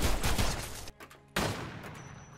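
Gunfire in the video game Decaying Winter: a dense burst of rapid shots, a short break, then another loud burst, all close and loud with no talk over it.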